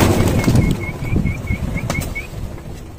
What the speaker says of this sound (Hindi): तो फिलहाल आप देखिए छत पे जंगली कबूतर के भीड़ भी लगी हुई है।